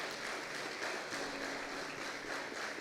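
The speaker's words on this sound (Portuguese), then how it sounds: "Se você quiser aplaudir ao Senhor" A church congregation applauding together, a steady dense wash of clapping hands at moderate distance that continues evenly without talk.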